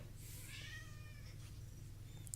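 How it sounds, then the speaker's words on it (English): A cat meows once, close and fairly clear, a short rising and falling cry over a low background hum. "We can point at him and say "you," and he'll meow back at you."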